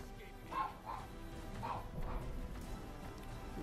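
A dog barking in the Fallout: New Vegas video game, a few faint yips and barks in quick succession under background noise, with someone talking.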